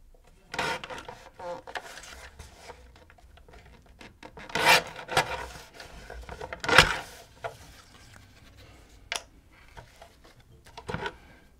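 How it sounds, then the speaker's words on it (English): A paper trimmer slicing cardstock, with several separate rasping strokes and scraping slides, a couple of longer louder cuts in the middle, close by, separated by short quiet pauses and light handling noises. "My trimmer. And trim this down."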